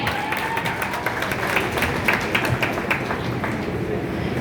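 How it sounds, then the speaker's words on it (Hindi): Steady, dense applause from an audience at a college cultural program in India, continuous and fairly loud with a busy wash of overlapping claps and some crowd noise throughout. "एक बार जोरदार तालियां हो जाए।"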